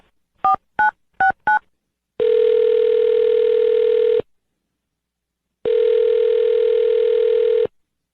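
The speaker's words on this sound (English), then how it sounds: "I'm going to dial her phone number right now" Four short touch-tone beeps in quick succession, then two long ringback tones separated by a pause, clear and close.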